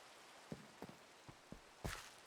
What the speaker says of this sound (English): Sorry, this rain is starting to get to me. I am so tired of the rain.